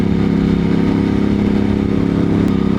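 A Moto Morini X-Cape 1200 motorcycle engine running steadily at about 100 km/h, a loud continuous droning rumble with a low throbbing pulse, close up and unbroken throughout.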